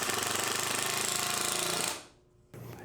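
A power driver sinks screws into a wooden picnic table seat rail: a loud, continuous buzzing whir runs for about two seconds, then cuts off into near silence before a short burst of noise.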